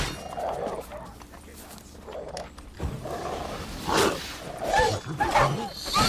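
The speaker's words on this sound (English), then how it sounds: "Silly dog." A dog in the video game The Witcher 3 gives several short barks and growly yelps in irregular bursts, with game sounds and someone speaking between them.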